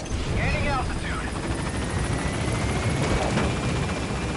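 Helicopter in the Metal Gear Solid video game lifting off, a steady loud rotor rumble running throughout, with brief voice sounds mixed in near the start.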